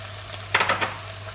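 Soy sauce poured into a pan of chicken bursts into a short, bright sizzle over a steady low hum, with a few quick crackling pulses that fade within a second.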